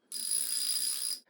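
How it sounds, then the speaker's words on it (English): Socket wrench ratcheting, recorded as raw material for Iron Man suit sound design: a single quick, bright metallic ratchet burst lasting about a second, close and clean against silence. "So for our redesign, let's start with a socket wrench"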